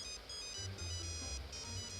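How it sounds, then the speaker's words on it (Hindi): A mobile phone ringtone rings out in a quiet forest, a steady electronic melody with a repeating pattern, fairly loud and close, playing continuously with no voices. "तभी उसका फोन बजा।"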